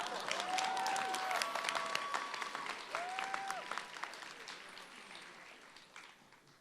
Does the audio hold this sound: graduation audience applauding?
yes